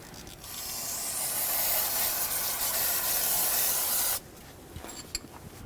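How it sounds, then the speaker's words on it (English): Brake parts cleaner is sprayed onto the rear brakes of a 2007-2014 Chevrolet Silverado 2500 HD truck, a loud continuous aerosol hiss lasting about four seconds that cuts off abruptly, followed by faint drips and clicks. "I'm going to take some brake parts cleaner and clean it all up"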